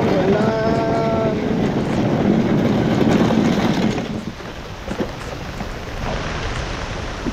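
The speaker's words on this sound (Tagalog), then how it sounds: "Lakas ng ulan." Heavy rain pours steadily during an outdoor walk in Taiwan, a dense loud hiss that eases somewhat after a few seconds, with some wind buffeting.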